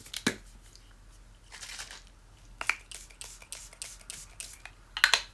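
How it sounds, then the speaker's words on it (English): Quick short bursts of makeup setting spray hiss one after another, fairly close and soft, with small clicks and a pause in the middle. "With some setting spray."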